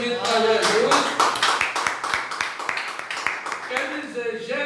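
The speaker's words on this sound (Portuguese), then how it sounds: "Um salve de palmas bem bonito para Jesus." Church congregation clapping in an evangelical service, a dense burst of hands over several seconds with a voice speaking over it near the start and end.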